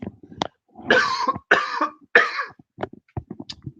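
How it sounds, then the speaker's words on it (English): Three loud, close coughs in quick succession, each a harsh burst, with soft clicks and rustling in the quiet gaps. "I'm going to cough"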